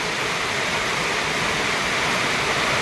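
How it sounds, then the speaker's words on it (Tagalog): Heavy rain pouring down on a street, a dense, loud, continuous roaring hiss with no breaks and no voices. "Bumuhos na siya. Hindi na nakapagpigil. May ano raw, may low pressure yata."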